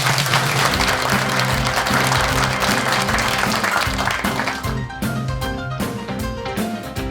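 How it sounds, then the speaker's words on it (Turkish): Studio audience applauding on a Turkish comedy talk show, steady dense clapping mixed with loud music and tonal accompaniment throughout, easing slightly toward the end. "Oğuzhan'ım aramızdaydı büyük bir alkış."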